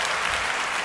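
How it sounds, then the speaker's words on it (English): Brief, dense burst of applause for a podcast guest, loud and close, a short continuous wash of clapping with no talk over it. "Get that motherfucker some fucking applause."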